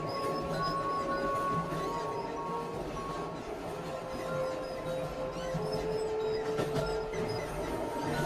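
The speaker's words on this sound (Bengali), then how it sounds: "ট্রেন চলতে শুরু করে।" Train starting to move: a steady, continuous rumble with clanking and faint metallic squeals building over several seconds, heard alone.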